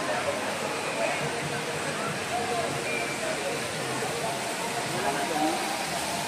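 Majayjay waterfall in Laguna pours in a steady, dense roar of rushing water, continuous and fairly close throughout, with faint voices now and then beneath the spray.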